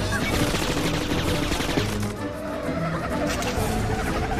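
Rapid machine gun fire in the Cars 2 racing video game, a dense, loud, continuous stream of shots layered over engine and game noise with no break.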